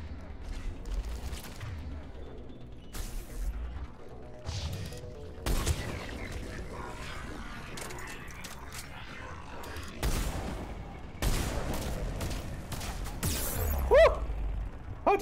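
Gunfire from a combat scene in Mass Effect 3 Legendary Edition: repeated bursts and single shots crack up close over a steady bed of rumbling game noise, with no voices.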